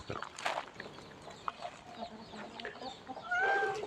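Hens and their chicks cluck softly while feeding outdoors, with a run of short, scattered clucks and then thin, high chick peeps near the end, all fairly quiet and close.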